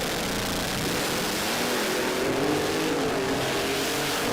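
A Mustang drag car with a big Carpenter Racing engine makes a full pass down the strip, a loud sustained engine roar with a rising pitch, heard from the track side at a Brisbane drag event.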